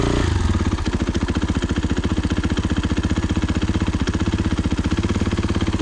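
A dirt bike engine idles close by with a steady, rapid putter, loud and continuous throughout, with no voices, water dripping from the exhaust.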